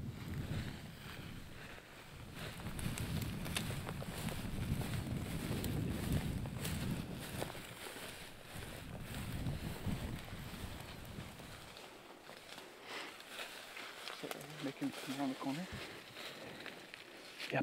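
Steady low buffeting of wind across the microphone on public land during a turkey hunt, rising and falling in gusts, with quiet voices faintly underneath toward the end.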